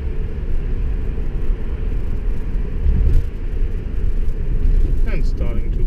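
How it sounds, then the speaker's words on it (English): A 2017 Mercedes-Benz E-Class slows under Distronic comfort braking, heard as a steady low cabin rumble of road and engine noise throughout, with a voice speaking briefly near the end. "First I want to show you the comfort braking with the Distronic"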